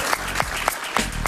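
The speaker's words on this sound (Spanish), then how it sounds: "Un aplauso para Luis Carlos." A studio audience on a talk show claps briefly, with a quick burst of applause and a few sharper individual claps standing out.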